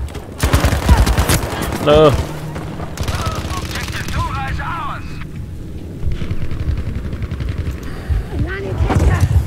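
Hip-fire gunshots in Battlefield V, loud rapid bursts of automatic fire up close, mixed with battle noise and effects, with a brief spoken word.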